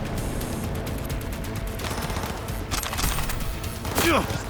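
Bursts of automatic gunfire in the video game Cyberpunk 2077, loud rattling volleys with a sharper spike near the end, mixed with game effects and a player talking.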